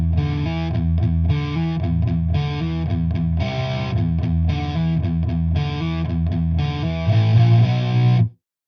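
Distorted electric guitar plays a riff slowly, chugging palm-muted low notes in a steady rhythm with heavy gain, loud and alone, ending on a sustained chord before cutting off.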